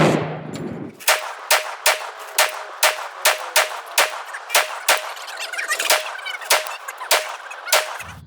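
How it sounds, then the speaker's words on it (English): Rapid, evenly spaced AR-15 rifle shots ring out at a shooting range, about a dozen loud sharp cracks with metallic ringing tails, firing alone after a brief rustle at the start. "These were the first rounds I shot."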